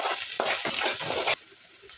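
Chopped onion dropped into hot oil already crackling with cumin and mustard seeds, a loud close sizzle with stirring scrapes that cut off sharply partway, leaving a quieter hiss.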